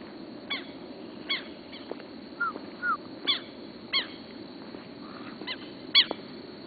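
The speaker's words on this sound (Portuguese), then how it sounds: "Olha o passarinho." A bird in São Paulo calls repeatedly with short, honking notes spaced about a second apart. The calls are fairly near and stand out over a steady background hum.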